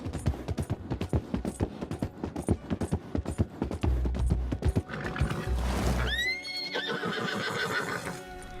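A horse in Red Dead Redemption 2 gallops with rapid rhythmic hoofbeats, then lets out a loud, rising and falling whinny near the end, close and clear against a low background.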